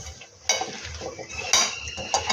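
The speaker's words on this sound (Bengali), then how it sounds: "এবার এটাকে আমি খুব ভালো করে মাখবো" Morola fish is mixed by hand with mustard oil in a bowl, giving close clinks and knocks of the bowl in a few distinct bursts between quieter squelchy handling.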